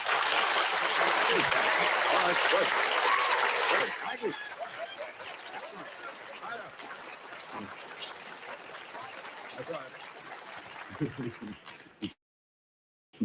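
A television game show studio audience bursts into loud applause that fades after about four seconds, leaving a chatty murmur and some laughter until sudden silence near the end.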